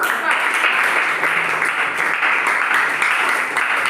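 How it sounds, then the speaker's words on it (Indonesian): Applause from a classroom of students for a presenting group, a steady dense clatter of many hands clapping close by for the full stretch without a break. "tepuk tangan dulu untuk kelompok 4"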